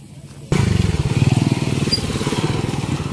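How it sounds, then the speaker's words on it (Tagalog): Motorcycles pass nearby: a loud engine roar cuts in abruptly and then holds steady with a rapid pulsing putter, alone without talk. "May mga motor."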